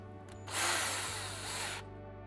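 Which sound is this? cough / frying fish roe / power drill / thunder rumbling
power drill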